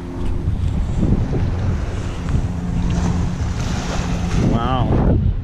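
Wind rushes across the microphone on a San Francisco beach at sunset while ocean waves wash in steadily underneath, and voices are heard faintly in the background.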